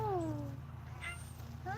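A domestic cat meows softly nearby, with a drawn-out meow at the start and another rising one at the end, over a quiet background hum.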